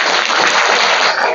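Schoolchildren at a government school near Silli, Ranchi, applaud together in a brief, dense burst of clapping, loud and close, filling the whole moment.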